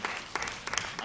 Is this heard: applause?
yes